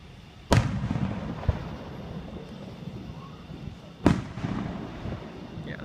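Fourth of July fireworks bursting in the distance, two sharp booms a few seconds apart with a smaller pop between, each trailing off into crackle and outdoor murmur.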